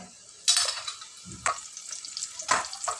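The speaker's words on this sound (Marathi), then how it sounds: "हे चपातीचे तुकडे पण दोन्ही बाजून चांगले फ्राय करून घेऊ" Chapati pieces frying in a pan, turned with a spatula for crispy chapati wafers: three bursts of stirring and scraping over a steady sizzle, close and moderately loud.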